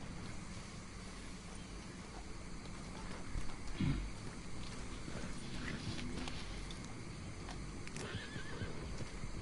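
A horse whinnies once in a short burst partway through in the video game Red Dead Redemption 2, over steady background noise and faint clopping.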